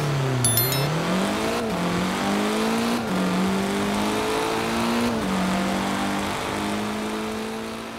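A 2009 MINI John Cooper Works engine in the Forza Horizon 4 racing game, revving hard and climbing through the gears with brief drops at each shift, loud and continuous, a short high beep near the start, no talking.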